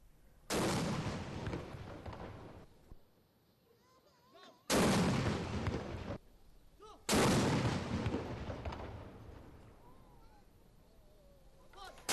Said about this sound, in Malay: Tembakan meriam itu merupakan satu tradisi di negara Brunei Darussalam bagi menyambut ketibaan bulan penuh berkat dan rahmat iaitu bulan Ramadan.